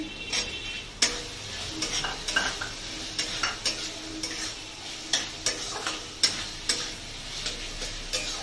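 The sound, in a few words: tomatoes being sautéed in a pan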